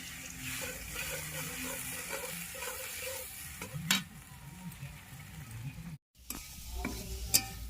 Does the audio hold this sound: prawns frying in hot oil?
yes